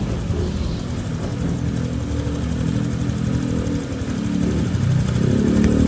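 A Honda Click scooter engine idles steadily up close after throttle body cleaning, with an IACV fault, a continuous low hum that swells slightly louder near the end, with no talk over it.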